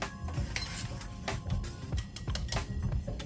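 Eggs scrambled in a pan with neutral oil over high heat, a run of quick scraping and clinking utensil strokes against the pan, close and continuous with an uneven rhythm.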